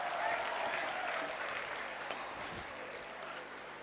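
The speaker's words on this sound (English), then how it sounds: "Please do give a big round of applause." An audience at a school annual day applauds in a steady, moderately distant wash of clapping that fades slightly over a few seconds.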